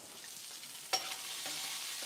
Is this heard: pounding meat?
no